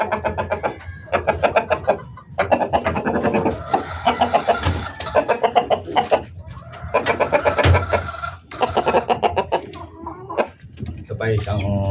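Chickens cluck and squawk nearby in repeated bursts, while someone talks over them at intervals.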